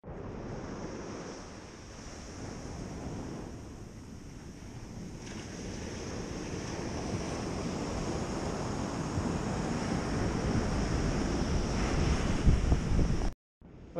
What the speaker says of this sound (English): Well, the tide is really high.